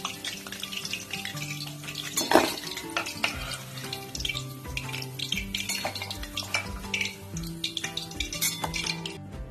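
Gondhoraj chicken pieces fry in hot oil, a continuous close sizzle broken by the clinks and scrapes of stirring in the pan, with no one talking.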